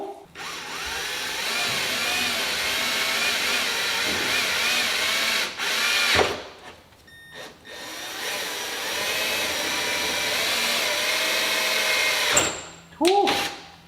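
A power drill fitted with a 3/8 bit bores holes in the body of a Dodge Charger Hellcat, a loud steady whine running almost throughout with brief pauses and a short burst near the end.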